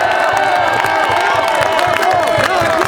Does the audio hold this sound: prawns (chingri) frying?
no